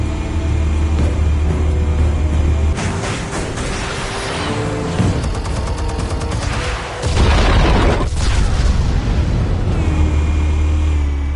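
Heavy explosions from Batman: The Telltale Series roar as charges detonate, with deep booming rumbles, crackling debris and a sharp burst near the middle, loud and continuous throughout.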